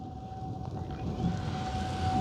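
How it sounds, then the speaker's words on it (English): A steady, faint siren wail rises and falls far in the background beneath a constant droning hum from a 1.2 m radio-controlled model plane flying in stormy weather. "I don't know if you guys can hear the sirens in the background"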